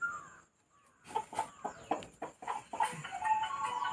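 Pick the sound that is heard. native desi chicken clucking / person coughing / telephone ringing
native desi chicken clucking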